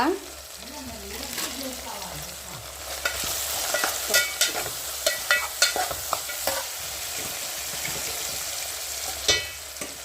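Ingredients for upma fry in a pan, a moderate sizzle with repeated scraping and stirring knocks from a utensil, and a brief voice near the start.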